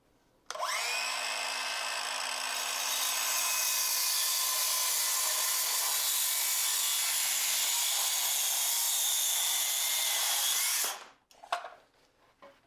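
A circular saw spins up and cuts through wood in a one-handed miter cut, a loud, close whine lasting about ten seconds before winding down into a few faint clatters.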